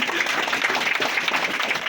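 Audience applause at a motivational talk for students, a steady dense patter of many hands clapping that holds evenly throughout, moderately loud with no break.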